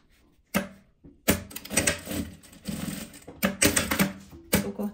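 Sewing machine stitching fabric, with a metal part pushed clear of the needle, giving bursts of rapid clattering mechanical stitching separated by short pauses, close and fairly loud.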